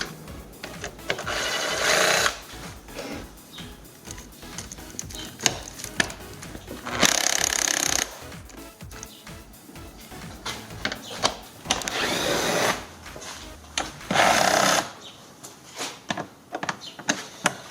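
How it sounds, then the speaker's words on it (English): Repeated bursts of a power ratchet or driver with an 8mm socket removing bolts on a Dodge Journey while taking out the windshield washer reservoir, several short whirring runs close by, separated by clicks and handling noises. "Now, with 8mm guys, we're going to remove a few bolts."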